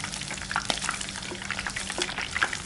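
Shrimp fritters (Semarang-style pia udang) frying in hot oil, a steady close sizzle and crackle with scattered sharper pops throughout, no talk over it.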